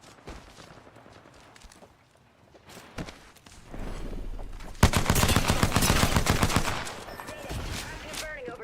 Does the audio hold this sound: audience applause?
no